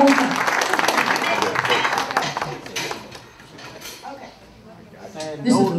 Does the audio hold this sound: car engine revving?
no